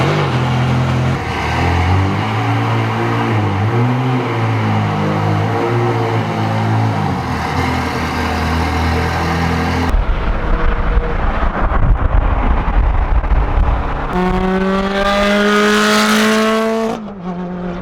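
A Ferrari engine fires up and revs hard several times, the pitch climbing and dropping in loud bursts with some wind buffeting the microphone.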